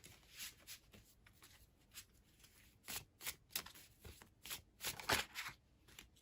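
Deck of tarot cards being shuffled in a quiet room, with crisp riffles and quick flicks repeating irregularly, close and fairly soft, and no talking.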